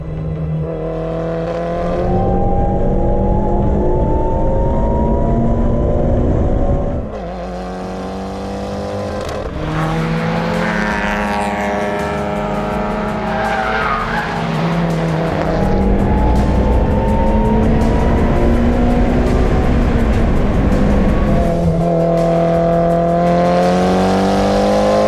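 A 400-horsepower race car at a Gridlife time attack event accelerates hard on track, its engine note loud and close, climbing through repeated rising gear pulls with brief drops between shifts and a continuous roar throughout.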